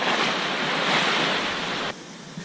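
Surf washing onto a beach at the end of a shaded stretch of shoreline in St. Lucia, a steady loud broadband roar with wind, dropping slightly in intensity near the end.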